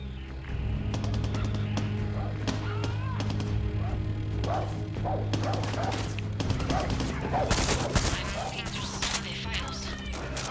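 Gunfire in the video game Far Cry 6, scattered shots and bursts mixed with game sounds, music and voices, fairly loud throughout with a denser burst near the end.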